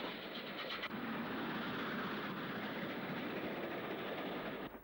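A train runs at speed through Whetstone Station on the old Great Central line, a steady loud rushing roar with rail clatter that carries on unbroken and close throughout.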